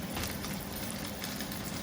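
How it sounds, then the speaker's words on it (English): Dense, even sizzling of sausages frying in a pan, a constant close crackle with no talking. "whilst them sausages are sizzling"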